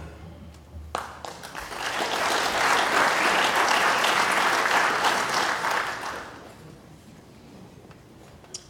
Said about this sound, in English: how about another round of applause for the band?